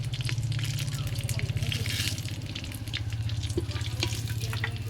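Bay leaves, whole dried chillies and whole cumin seeds sizzle steadily in hot oil, probably in a pot on a wood-fired stove, with a continuous close crackle and a low hum underneath.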